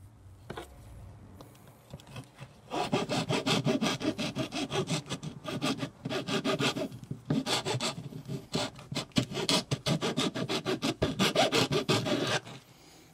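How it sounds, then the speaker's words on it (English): Metal file rasping out a plastic motorcycle tail and stop light part, a quiet rhythmic scraping of repeated strokes in several runs with short pauses between them. "I'm using a metal file rather than a wood rasp."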